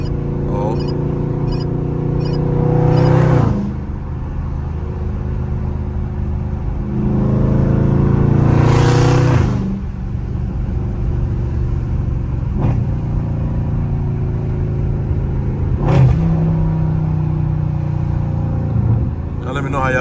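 A loud Dodge Scat Pack car downshifting aggressively in traffic: deep exhaust rumble with sharp revving surges and pops, several bursts over twenty seconds, heard from inside the car.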